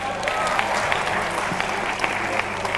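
Crowd applause at a university international week opening ceremony, a continuous wash of clapping with scattered sharper claps standing out, and some faint voices mixed in beneath.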